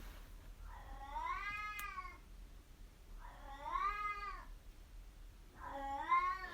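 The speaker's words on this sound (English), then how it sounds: "it's my cat just screaming" A cat lets out three long, drawn-out yowling meows spaced a couple of seconds apart, faint and somewhat distant in a quiet room.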